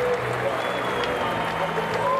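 An NBA arena crowd cheers for Kobe Bryant of the Los Angeles Lakers in a sustained roar of applause, with a commentator's voice running over the noise.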